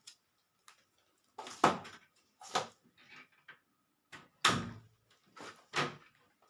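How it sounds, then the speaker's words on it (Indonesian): A window curtain and a door are closed in a patient examination room, giving a series of separate knocks and thumps spread over several seconds with quiet gaps between them. "kita harus menutup tirai jendela maupun pintu."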